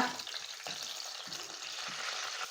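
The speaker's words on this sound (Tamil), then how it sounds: "இப்போ இந்த கட் கட் பண்ண தக்காளியை எண்ணெயில் சேர்த்து கொடுத்துக்கோங்க" Cut tomatoes fry in hot oil for an ayla fish curry, giving a steady close sizzle with a few soft stirring scrapes and no talking.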